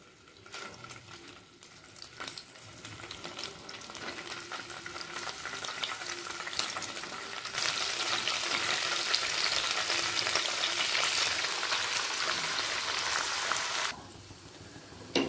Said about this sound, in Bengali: পনিরগুলোকে হালকা লাল করে ভেজে তুলে নেব।